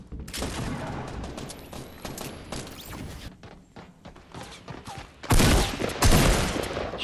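Shotgun blasts in Fortnite: a dense volley of loud, sharp game gunfire with clattering mechanical effects, easing off mid-clip before two heavy booming shots land near the end.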